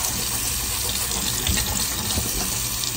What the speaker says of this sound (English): I'm just gonna clean it with some water.